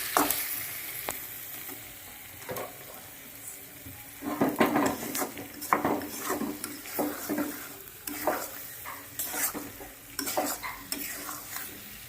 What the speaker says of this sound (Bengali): মশলা দিয়ে কষানো হয়ে গেছে,